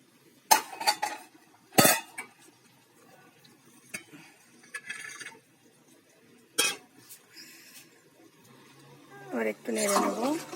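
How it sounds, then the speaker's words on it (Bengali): Fried potatoes are moved into a cooking pot, with sharp clinks and scrapes of a utensil against metal in scattered bursts. Someone talks between them, and a soft sizzle rises near the end. "এবার এই আলুটাকে আমি এই হাঁড়ির মধ্যে দিয়ে দেবো।"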